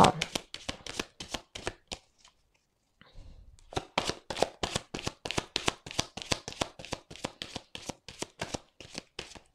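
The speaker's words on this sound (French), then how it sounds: "on va tirer 10 cartes avec le petit Lenormand." Petit Lenormand cards being shuffled, a fast run of crisp riffling flicks, close and steady, with a short pause partway through before the rapid shuffling resumes.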